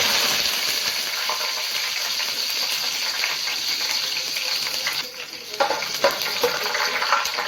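Mustard seeds, cumin and curry leaves sizzle and crackle steadily in hot oil for a Nellore fish curry, a dense broadband frying hiss with small pops and a brief stir near the end.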